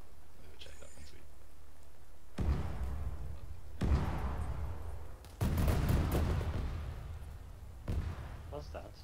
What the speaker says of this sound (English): That is artillery we called in